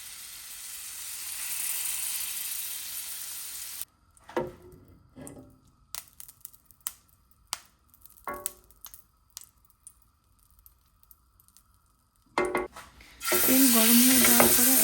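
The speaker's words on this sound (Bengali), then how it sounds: "প্যানটি ভালো করে গরম হয়ে যাওয়ার পর আমি এখানে 1 চামচের মতো বাটার এবং একটু তেল দিয়ে দিব।" Butter and a little oil hitting a hot grill pan for steak: a loud broadband sizzle at the start, a quiet stretch of scattered clicks and scrapes, then the strong hiss returns near the end.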